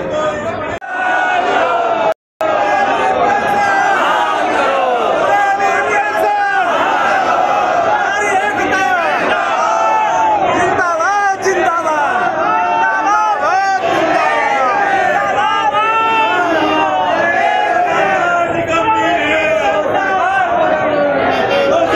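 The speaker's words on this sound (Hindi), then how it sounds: "पूरे उत्तर प्रदेश से लाखों की भीड़ लखनऊ पहुंची।" A huge crowd of protesting employees at a rally in Lucknow, Uttar Pradesh, shouts and chants continuously, a dense roar of many voices that is loud and sustained with only a momentary break.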